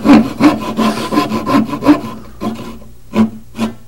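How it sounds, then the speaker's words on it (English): A small hand saw cutting through a piece of wood to widen a hole, giving a steady run of rasping back-and-forth strokes, close and fairly loud, that slow and break into a few separate strokes near the end. "take a little hand saw, you saw the hole just a little bigger"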